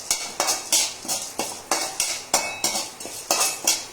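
A spoon scrapes and stirs fenugreek seeds and spices in a metal pot with a brisk, even rhythm of about three strokes per second, each a clear metallic scrape close by, with no talking.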